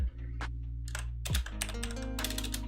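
Keystrokes clatter on a computer keyboard over a steady low electrical hum, starting as a few isolated taps and then running into a quick, dense burst of close typing.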